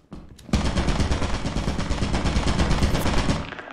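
Turret machine gun in Lethal Company opening up suddenly after a brief quiet moment, a loud sustained burst of rapid-fire shots that runs for a few seconds before cutting off.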